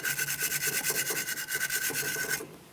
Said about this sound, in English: Use a wire brush